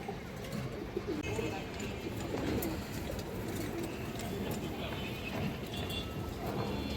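Pigeons coo softly and continuously among a loft of fancy breeds such as green-necked and aluminium silver birds, a steady bed of overlapping calls with faint fluttering and no talk.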